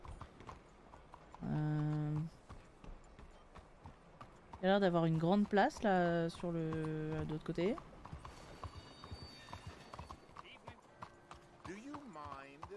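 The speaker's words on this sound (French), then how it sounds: "J'aime beaucoup le bruit des sabots sur les routes." Horse hooves clop on roads in a video game town, a light, rhythmic patter under someone speaking French over several stretches.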